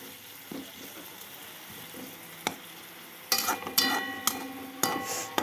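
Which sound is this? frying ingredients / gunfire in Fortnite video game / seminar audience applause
frying ingredients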